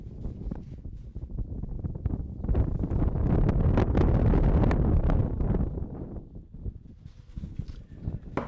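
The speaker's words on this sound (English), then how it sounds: "you can hear and see the effect of the wind. Just a few gusts picking up now." Wind gusts buffet the microphone at an outdoor cricket match, swelling into a loud roaring rush midway before easing back to lighter, fluttering bursts.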